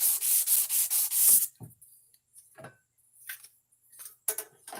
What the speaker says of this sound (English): That sandpaper's just not working out.